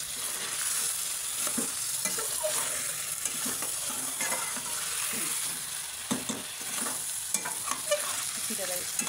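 Green chillies and ginger fry for a chicken Mumbai biryani: a continuous soft sizzle with scattered light crackles and faint stirring clicks, fairly quiet and close.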